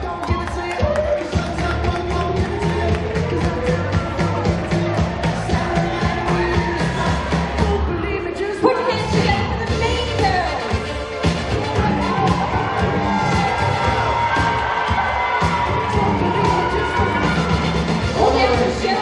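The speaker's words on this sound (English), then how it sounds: "Round of applause for Wonderland." Audience at a 2019 fashion parade applauding and cheering, a dense and loud crowd roar with clapping and shouts that runs steadily throughout.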